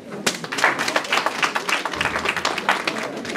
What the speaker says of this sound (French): le camarade Serge Ablé, sous vos acclamations, s'il vous plaît.